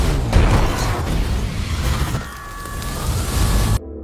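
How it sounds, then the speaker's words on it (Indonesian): Bomb blast in a film scene: a loud, broadband rumbling explosion with crackling debris that continues for several seconds before cutting off abruptly. "Tak lama kemudian, bom itu pun meledak."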